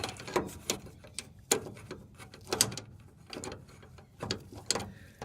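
Ratcheting wrench tightening the gas fuel filter fitting on an OBS GM full-size truck, heard as several short mechanical clicking bursts spaced about a second apart, close and moderately loud with no talking.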